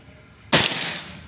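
A single sharp crack from a Predator Pajero Gen 6 air rifle during an accuracy test, loud and close, with a short hissing tail fading after the shot.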